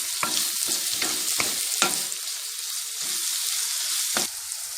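Marinated chicken frying in a pan for chicken noodles, a steady sizzle broken by several sharp scraping stirs of a utensil against the pan.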